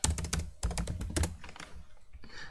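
Typing on a computer keyboard, close and crisp, with rapid bursts of clattering keystrokes, a short pause, then another flurry trailing off into lighter taps, heard alone without speech.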